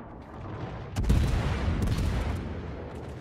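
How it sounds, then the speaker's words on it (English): Moskva cruiser firing a gun salvo in World of Warships, a sudden heavy burst of overlapping cannon blasts that swells into a loud rumbling boom with a second cluster of shots following, over steady background game noise. "That's my last salvo of the game"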